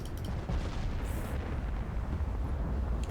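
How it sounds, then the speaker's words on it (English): A torpedo explodes in a naval strategy video game set in a Portugal campaign, a deep rumbling blast that fills the short stretch with sustained low roar. "That's a sneaky torpedo."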